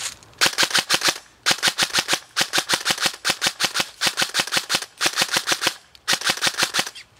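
Rapid bursts of gunfire in groups of three shots, repeated in tight clusters with brief pauses between, loud and close with no talking.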